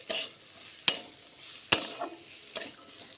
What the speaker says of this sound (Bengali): দিয়ে ভালো করে আবার একটু আমি নাড়িয়ে দিচ্ছি